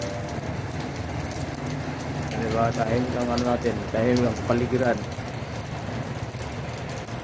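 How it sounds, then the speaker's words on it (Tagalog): Steady rain falls through a Philippine neighborhood after a full day and night of downpour, a constant broadband hiss with someone talking over it in the middle. "Kasi nga tuloy-tuloy ang ulan mula pa kahapon."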